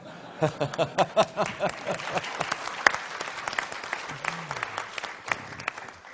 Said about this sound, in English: it's almost a round of applause